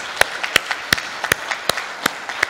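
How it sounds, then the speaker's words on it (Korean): Applause at KAIST's 50th anniversary ceremony: sharp, well-separated claps in a loose, uneven rhythm, close and fairly loud, like a few hands rather than a full crowd. "우리 감사의 박수를 다 같이 한번 치시죠."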